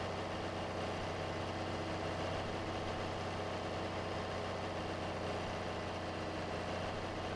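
Steady low idle of a John Deere 4020 tractor engine in Farming Simulator 22, a continuous droning hum with constant vibration and no change in pitch, heard alone.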